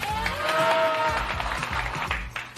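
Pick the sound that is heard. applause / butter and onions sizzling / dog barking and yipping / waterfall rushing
applause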